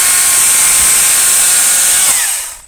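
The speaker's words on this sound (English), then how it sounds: "He's using the chainsaw." Loud, close high-pitched whine of a battery chainsaw cutting trees, running steadily, then spinning down and fading out at the end.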